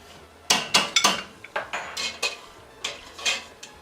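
Food stirred in a pot for lamb osso buco, a quick run of close metallic scrapes and clinks from a spoon against the pot in uneven bursts, with no voices.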